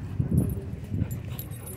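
A dog at a dog park whimpers and yips in short, close bursts, a few soft whines rising and fading.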